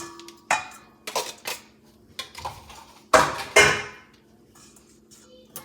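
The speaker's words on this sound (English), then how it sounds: "So I mix it up in the container" Croissant ingredients being mixed by hand in a container, a series of sharp knocks, clatters and scraping bumps at irregular intervals, with two louder clusters toward the end, close and otherwise quiet.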